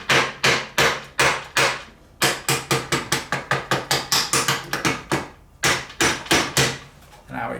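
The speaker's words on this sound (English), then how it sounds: "I'm going to put it into the bottom bracket and tap it with a soft blow mallet." A soft blow mallet repeatedly taps a 30mm socket into a bicycle bottom bracket on a Fuji Transonic frame, giving sharp close knocks in quick irregular bursts, some hits louder and several struck in rapid runs, with brief pauses between groups.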